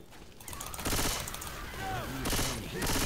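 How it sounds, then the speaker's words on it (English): Bursts of SMG gunfire in the zombie shooter Left 4 Dead 2, rapid automatic volleys coming in several loud spurts with pauses between, mixed with other game sounds. "I'm using an SMG. This could take some bullets."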